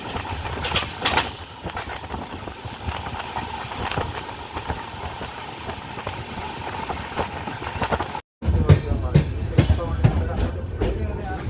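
Island Express train rolling toward Sasthamcotta station in Kerala, a steady rumble of wheels and carriage noise with rhythmic clatter, continuous and fairly loud, briefly cutting out near the end before resuming.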